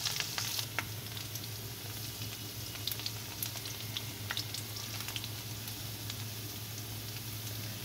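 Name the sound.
potatoes frying in a pan with spices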